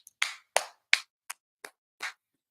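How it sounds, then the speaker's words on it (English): A few separate hand claps, about six sharp bursts spread over a couple of seconds, fairly close and distinct rather than a full crowd round of applause, with no talking. "Round of applause"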